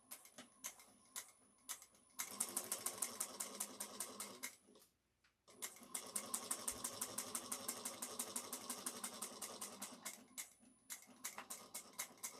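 A sewing machine stitches a back stitch on a shoulder bag: rapid, rhythmic needle clatter in a steady run, a brief pause, then a longer burst of even ticking at close range, with no talk.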